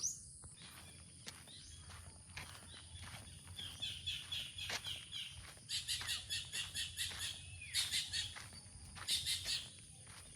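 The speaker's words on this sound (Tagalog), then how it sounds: "Ang daming ibon na hindi ko kilala yung mga tunog." Several wild birds call and chirp in repeated bursts, mixed with insect buzzing, in an open outdoor setting at moderate distance.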